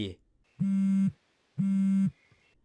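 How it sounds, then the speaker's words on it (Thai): A mobile phone vibrates in an audio drama sound effect, giving two evenly spaced, buzzing pulses of about half a second each, loud and alone after a brief bit of speech. "เสียงสั่นมือถือยังคงดังอย่างต่อเนื่อง"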